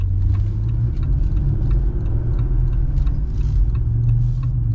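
A 2026 Jeep Gladiator Mojave with a V6 drives steadily, its engine giving a constant deep, loud rumble and road drone from inside the cab with no marked revving.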